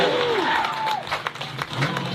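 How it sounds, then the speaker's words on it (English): Crowd applause and cheering at an SRD drifting event on the plains, heard right after a drift battle, a steady noisy wash of clapping with tire and engine noise fading in the background. "Give them a round of applause."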